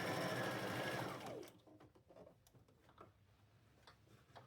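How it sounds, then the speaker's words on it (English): A domestic sewing machine runs a fast, steady straight stitch along the shoulder seams of a vest made from old curtains, humming loudly for just over a second before stopping, followed by quiet ticks and handling clicks. "I'm just going to sew a straight stitch right across the top"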